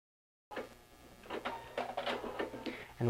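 A sewing machine stitching cotton quilt pieces for a pinwheel table runner starts abruptly after a brief silence, then runs as a close, moderately loud series of quick mechanical stitching bursts.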